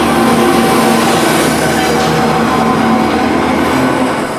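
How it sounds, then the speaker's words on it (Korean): A loud, steady rumble of a long train rolling in across the Sahara desert, with continuous roaring noise and faint metallic tones, no voices. "드디어 기차가 들어왔습니다."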